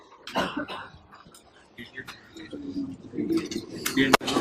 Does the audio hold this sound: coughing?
yes